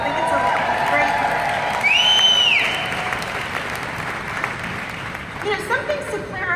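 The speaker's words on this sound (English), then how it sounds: "that deserves a lot of applause" Audience applause at a product launch for a new generation of liquid BioCell, steady clapping with some crowd noise and a brief tonal sound near the start, fading out and giving way to speech.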